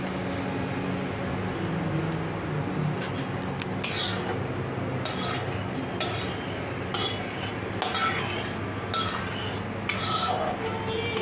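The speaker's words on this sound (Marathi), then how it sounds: "त्याच्यामुळे सगळीकडून असं तूप लावून घ्यायचं" A spoon spreads ghee around a hot kadhai while making laddoos, scraping and clinking against the metal in repeated strokes, close but fairly soft.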